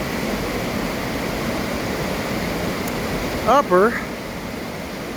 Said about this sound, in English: Little Lewis River Falls. The cascade part.